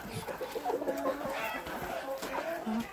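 Chickens in a farmyard clucking in short, soft bursts, fairly faint and somewhat distant, with other poultry sounds mixed in and no talk.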